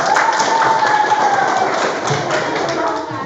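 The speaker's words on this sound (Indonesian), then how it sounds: "Tepuk tangan." A classroom of students claps together in a school religious-studies lesson, steady clapping filling the room for a few seconds with voices mixed in underneath.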